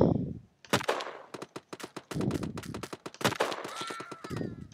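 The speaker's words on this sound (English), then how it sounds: "Oh jeez, I'm getting sniped up." Gunfire in the video game Shell Shockers: rapid bursts of sharp cracking shots in irregular clusters, with brief gaps between volleys, close and loud, alongside other game sounds.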